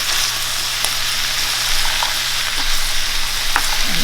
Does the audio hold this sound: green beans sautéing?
yes